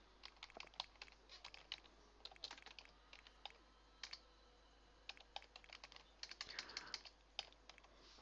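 Quick bursts of clicking keys on a computer keyboard as a name is typed, irregular clusters of taps with short pauses between, close and fairly quiet.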